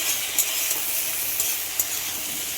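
Vegetables, including pumpkin and potato, fry in a pan with a close, steady sizzling hiss while a utensil stirs them, adding a few light scrapes and taps.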